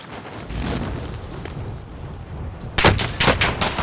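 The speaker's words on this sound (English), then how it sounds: "I'm already getting shot at" Gunfire in Call of Duty Warzone, a quiet stretch of ambient rumble broken by a sudden close burst of rapid shots, several sharp cracks in quick succession toward the end.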